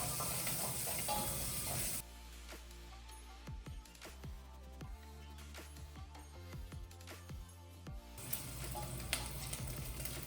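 Bacon sizzles in a pan as fat renders during a coq au vin recipe. A dense hiss opens and closes the passage, and scattered crackles and scraping stir sounds fill the quieter stretch between.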